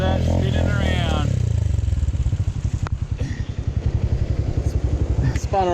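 A motorcycle revs hard with its rear wheel spinning after the tyre has come off the rim, the engine pulsing in a fast, loud, rhythmic throb up close, with a voice talking over the opening moments.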